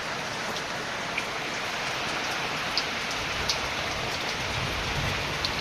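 Heavy monsoon rain pours steadily on a rural home, a dense, continuous hiss with a few sharper drop taps and no voices.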